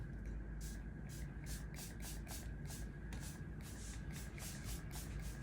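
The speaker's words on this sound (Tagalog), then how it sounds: "Again, Shui Mura Unlimited Makeup Spray." Shu Uemura Unlimited makeup setting spray is pumped in about a dozen short, even bursts close to the microphone, each a brief soft hiss over a low background hum.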